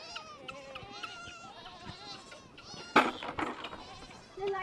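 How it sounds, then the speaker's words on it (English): Goats bleat repeatedly on a farm, several animals calling over one another near and far, with people talking intermittently among the calls. "There's goats everywhere."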